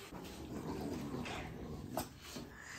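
Playful growling and scuffling from Canary (Presa Canario) puppies roughhousing together, a steady low rumble of small growls and whimpers at close range, continuous through the clip with no talk over it.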